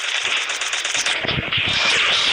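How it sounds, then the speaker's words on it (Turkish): Rapid gunfire from the Pixel Gun 3D video game crackles in quick bursts over a dense electronic game backdrop, loud and close throughout. "Oğlum tekrar silah sesi."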